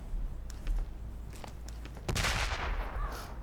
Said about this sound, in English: Operate cannon.